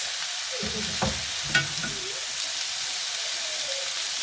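Potatoes sizzling in a hot pan over high heat, a steady, loud frying hiss that fills the whole stretch, with a couple of brief low knocks of utensils near the start.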